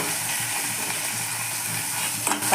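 Fenugreek, mustard seeds, urad dal, curry leaves, onion and garlic fry in hot oil in a pan, a steady close sizzle with a few stirring clatters near the end.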